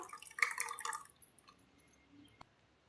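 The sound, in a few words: water pouring into whisked curd for buttermilk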